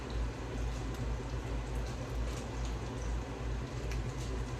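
Water comes to a rolling boil in a pot for pasta, giving a steady, faint bubbling and low rumble that stays even throughout with no voices.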